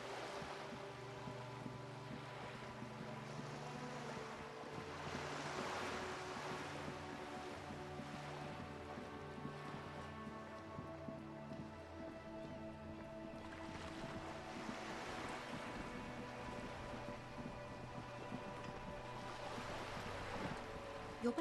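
Soft water waves lap steadily in Disco Elysium, a faint continuous wash that swells and recedes beneath quiet sustained music tones, with no talking.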